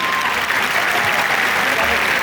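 Audience applause at a live youth dialogue event with Sri Sri Ravi Shankar, a dense, steady wash of many hands clapping that fills the whole moment at full volume.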